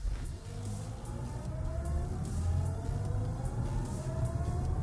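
An all-electric BMW 7 Series limousine launches hard from a standstill, a steady rising whine and road rumble building continuously as it accelerates for several seconds, with no talking.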